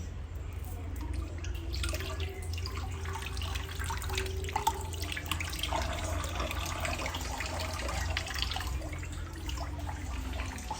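Food being rinsed under a running tap in a kitchen sink, a steady wash of water with scattered drips and splashes that continues throughout, over a low background hum.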